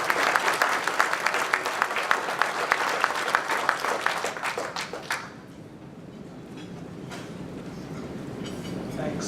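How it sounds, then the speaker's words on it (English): Audience applauding a blockchain finance panel, rapid loud clapping for about five seconds that breaks off into room noise with a few scattered claps. "Let's give them a big round of applause and get started."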